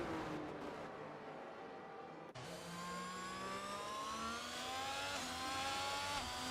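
Ferrari FMP1 Formula One car in a racing video game, its engine howling at high pitch and rising steadily through the gears after a brief cut, loud and close throughout.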